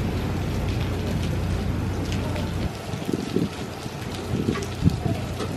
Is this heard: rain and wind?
yes